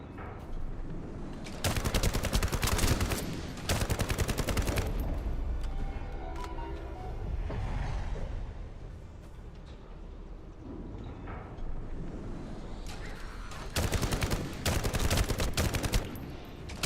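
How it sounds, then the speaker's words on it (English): Rapid scout rifle fire from The First Descendant video game, bursts of repeated shots crackling loudly in close-up, with quieter stretches between volleys and heavy bursts returning near the end. "I'm using a scout rifle right now"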